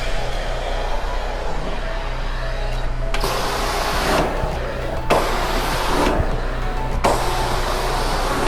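All Surface Cleaner extracting from carpet, a steady motor whine with several surging suction passes roughly every second, close and loud with no talk.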